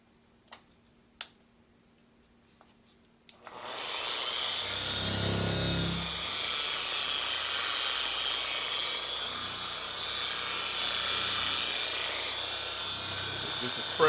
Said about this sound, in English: Just let the orbital do all the work. Start off on the slow speed.